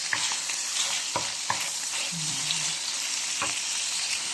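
Garlic sautés in a pan with a constant sizzle, broken by a few sharp utensil scrapes and clicks as it is stirred.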